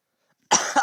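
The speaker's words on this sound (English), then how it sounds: "I always feel the need to cough after doing an announcement." A single short, sharp cough close to the mic after a moment of silence, with a second smaller burst right after.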